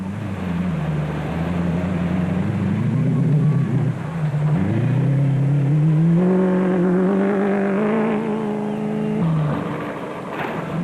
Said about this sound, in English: Shamir Variawa and VZ Van Zyl were in great form in the BMW V8 powered Total Porter